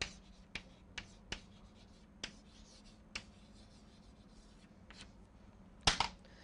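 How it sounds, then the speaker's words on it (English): A name is written on a board in a lecture room, heard as sparse, sharp tapping strokes and scratches, close and quiet, with a louder scrape near the end. "I'll write his name here."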